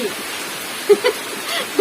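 Steady winter rain falls outdoors by a pond bank at midday, a soft continuous wash of drops with a few brief louder bumps nearby.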